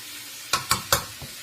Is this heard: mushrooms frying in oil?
yes